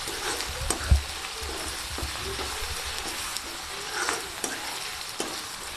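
Onions and mint frying toward golden in a pan for chicken curry, a fairly quiet steady sizzle broken by spoon scrapes and taps as the mixture is stirred.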